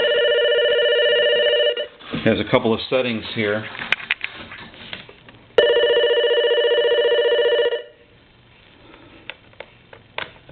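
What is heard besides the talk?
Radio Shack telephone bell ringing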